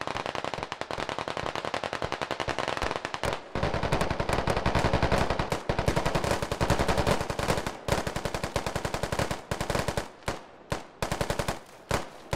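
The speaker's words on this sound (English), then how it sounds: "So this is suppressive fire" Sustained suppressive machine gun fire in the tactical shooter game Squad, dense rapid automatic bursts continuing for about ten seconds with brief gaps, breaking into shorter separated bursts near the end, loud and close.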